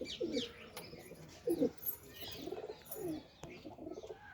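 Soft, low cooing from pigeons in a few rhythmic bursts, close by and fairly quiet, with faint chirps between calls.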